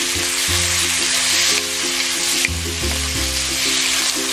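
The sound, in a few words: pork frying in a pan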